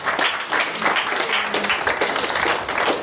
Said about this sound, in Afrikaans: Ons gee maar 'n klap.